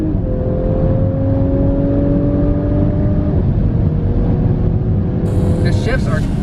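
A 2019 Audi S5 with an 8-speed automatic accelerates hard, its engine note climbing steadily inside the cabin before a quick upshift drops the pitch, and the drone continues loud and steady.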